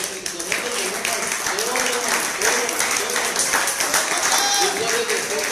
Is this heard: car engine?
no